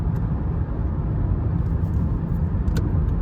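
A 2010 Lexus ES 350 accelerating hard under partial throttle on a test drive, its steady engine roar and road noise loud and continuous throughout, heard from inside the cabin with no talk.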